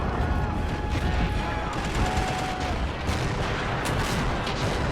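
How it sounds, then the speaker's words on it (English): Artillery fire in a war video game set in no man's land between charging armies: a dense, continuous barrage of booms and crackling gunfire filling the whole stretch without a pause. "The artillery is what's doing the most damage."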